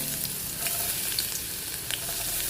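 Chopped garlic frying in olive oil in a pan, a steady close sizzle with crackling pops throughout, loud and continuous with no talking.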